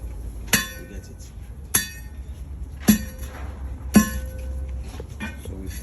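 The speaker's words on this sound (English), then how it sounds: "So we pound them till the glass bottles turns into powdered form." Glass bottles are pounded into powder for traditional bead making in Ghana, four sharp ringing impacts with clinking glass spaced about a second apart over a low background rumble.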